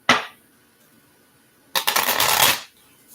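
Tarot cards shuffled by hand: a quick burst of riffling, a pause, then a longer, louder rustling shuffle, close and clear with no talking.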